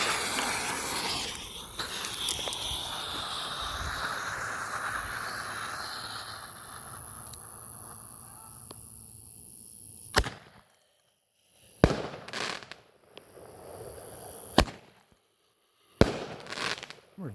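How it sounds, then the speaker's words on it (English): A Red Apple 30-inch Roman candle firework fires outdoors with hissing and crackling. Sharp separate shots then pop one by one with quiet gaps between them, loud and fairly close. "30-inch Roman candle by Red Apple."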